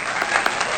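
Brief burst of applause, a dense patter of clapping hands sounding moderately loud and even throughout, with no voices over it.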